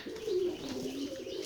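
Domestic pigeons coo in a short, soft, rolling call that swells and fades, heard close by with no talking.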